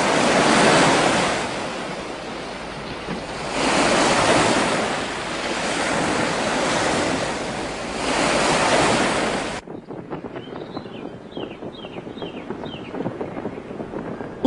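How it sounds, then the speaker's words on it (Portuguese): Strong wind roaring in surging gusts for about nine seconds in an anime episode, then cutting abruptly to a quieter outdoor bed with faint rapid ticking and clatter. "O vento está cada vez mais forte."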